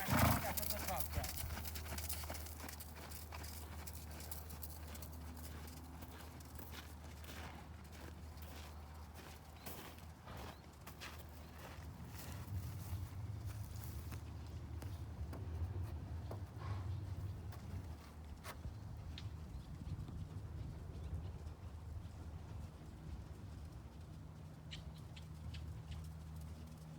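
A horse trots around a riding arena, with steady rhythmic hoofbeats carrying throughout while an instructor calls out directions over them.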